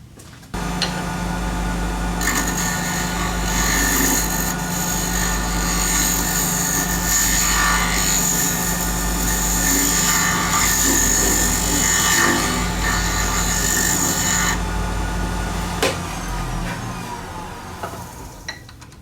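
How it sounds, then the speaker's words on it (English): A wood lathe spins a wooden finial end while a tool faces it and cuts a slight tapered contour, giving a steady close whirring hum with scraping cutting noise that fades out near the end, with no talk. "But I want to face this and give it the contour, a slight tapered contour,"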